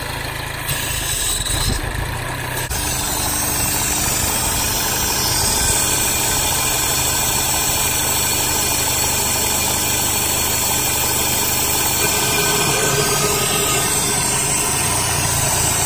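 A 2009 Mini Cooper S R56 engine idles steadily nearby, a loud continuous rumble with a faint mechanical ticking and no one talking.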